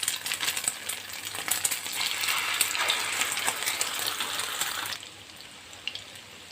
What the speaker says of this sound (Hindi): अब हम इसमें सारे कबाब एक एक करके डालते जाएंगे।